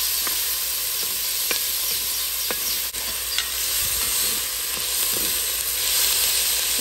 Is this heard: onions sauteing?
yes